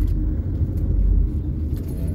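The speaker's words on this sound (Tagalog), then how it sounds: "Ayan, nasa biyahe pa rin tayo dahil traffic." A car moving slowly through road traffic on the way to Tanauan, Batangas, heard from inside as a loud, steady low rumble of engine and road noise with faint rattles, no voices.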